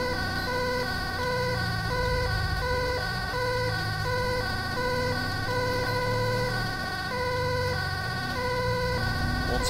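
An ambulance siren in the GTA 5 video game wails steadily and loudly through the whole stretch, cycling in a regular rising and falling tone over a low engine rumble. It sounds close, with no talking.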